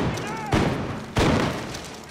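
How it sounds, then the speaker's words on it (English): Gunfire in Red Dead Redemption 2, coming from a barn: two loud, sharp shots about half a second apart, each with a booming tail, over faint game ambience. "The gunshots are coming from that barn!"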